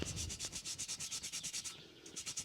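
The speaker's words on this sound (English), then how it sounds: "a bit of a rub with the Scotch-Brite pad" Scotch-Brite pad rubbed back and forth over a rusty old tool after rust-remover treatment, a steady run of about fifteen quick abrasive strokes, close and fairly quiet, with no talking.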